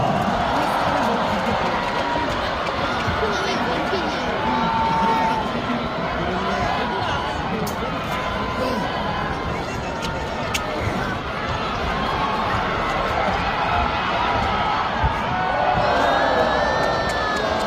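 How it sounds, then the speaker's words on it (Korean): A K League football stadium crowd cheers and claps for Daegu FC player Lamas after a match, a dense continuous roar of applause and shouting with an announcer talking over it. "라마스 선수를 위해서 박수를 부탁드리고"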